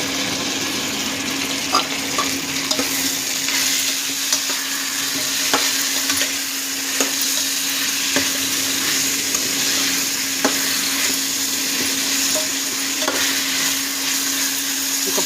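Washed chicken pieces fry in a pan for chicken charu, hissing with a steady, loud sizzle as a spoon stirs and scrapes at intervals.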